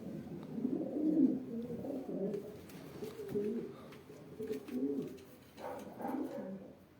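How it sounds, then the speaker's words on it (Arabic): Racing pigeons coo steadily at close range for the whole stretch, with soft, overlapping rolling calls rising and falling in loudness and only a faint murmur in the background. "الحمام كاليتي كيعطينا كاليتي"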